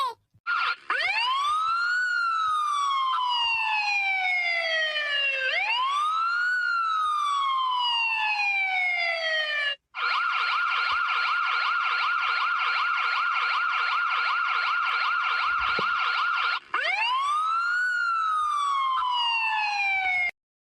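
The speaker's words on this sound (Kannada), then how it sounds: "ನಮ್ಮೂರಕ್ಕೆ ಆಂಬುಲೆನ್ಸ್ ಬರ್ಬೇಕು ಅಂದ್ರೆ ಯಾಕೆ ಬಂದೈತೆ?" An ambulance siren wails loud and close for about twenty seconds in a village, sweeping up and falling in slow rises, then switching to a steady two-tone blare before the wail returns, with no talk over it.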